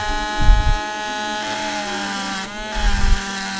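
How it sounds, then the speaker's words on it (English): Rotary tool fitted with a stone grinding tip cutting into a silver-coated fake panda coin: a steady high-pitched motor whine with a rasping grind, plus two brief low rumbling bursts near the start and end. "There's the stone tip. Now I can start grinding now."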